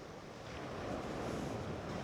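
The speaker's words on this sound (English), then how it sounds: "As usual, it's really windy here by the sea" Windy seaside ambience with steady surf and gusts buffeting the microphone, a continuous broadband roar that holds fairly even and slightly builds, with no voices.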